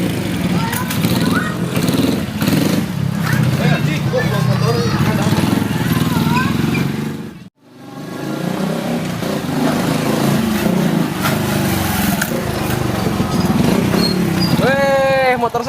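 A motorcycle engine drones steadily beneath loud, continuous talk, cut off by a brief silence midway before the running resumes with voices over it.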